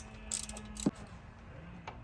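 Ratchet clicking faintly while removing size 14 bolts from the throttle cable bracket on a 1986 Toyota Corolla engine, a few short mechanical ticks and one sharper clack against low workshop background.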